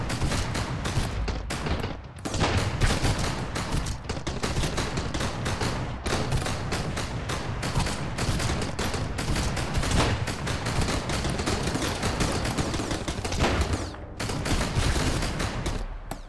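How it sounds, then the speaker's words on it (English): A heavy machine gun in the survival game Sunkenland fires long, sustained bursts of rapid, loud, close shots with only brief pauses, forming a continuous barrage. "Luckily I do have this heavy machine gun"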